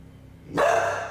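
A dog gives a single sharp bark after a quiet moment, close and loud, with a short tail of echo and no voices.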